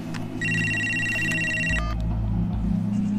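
A telephone rings indoors in a bright electronic trill, a few repeated bursts over a low rumbling background before it cuts off, no one speaking.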